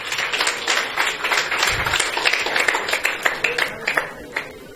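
A classroom breaks into applause for a top-scoring student, a burst of many hands clapping close by that thins out toward scattered individual claps.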